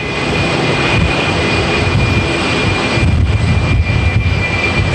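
Concorde jet airliner, British Airways flight, touching down at JFK airport: a loud, steady roar of aircraft engines holding throughout, broadband and continuous with no voices.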